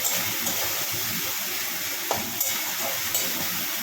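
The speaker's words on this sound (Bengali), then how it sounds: "চলো এটাকে আর একবার ভাজা ভাজা করে নিই" Food fries in oil in a pan in a home kitchen, giving a continuous bright hissing sizzle with a few faint pops.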